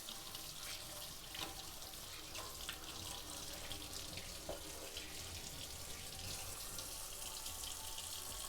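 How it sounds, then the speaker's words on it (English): Hands being washed under a running kitchen sink tap, a steady broadband rush of water with small splashing shifts, fairly close and continuous with no talking. "let me wash up my hands"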